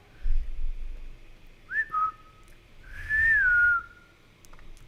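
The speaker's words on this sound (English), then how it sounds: "And how does she whistle?" A single person whistles a short rising-and-falling phrase, two brief notes followed by a longer sliding tone, clear and close against a quiet background.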